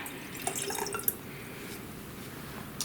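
Water is poured into a Gourmia steam espresso maker: a faint, quiet trickle and splash with a few small drip-like plinks, close and alone.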